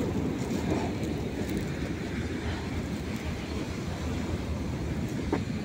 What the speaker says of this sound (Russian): Товарняк там надолго.